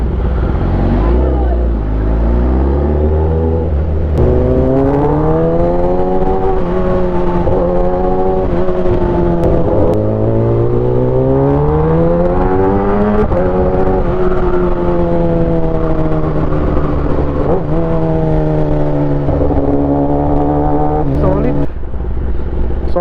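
Heavy road traffic on a rainy day in Dagupan, Pangasinan: a loud, close engine drone rising and falling in pitch as vehicles crawl and accelerate, with constant low rumble throughout.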